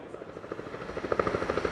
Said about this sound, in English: Right out here in the car park, they have helicopters coming and going as well.